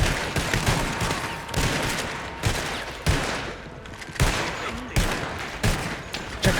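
Gunfire in WildRP, a Red Dead Redemption roleplay game: repeated loud shots cracking out at irregular intervals over a busy, noisy background of action.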